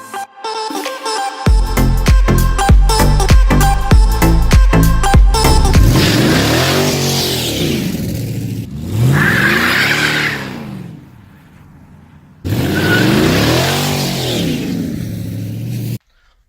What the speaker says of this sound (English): Okay, now I know those burnouts were a little weak.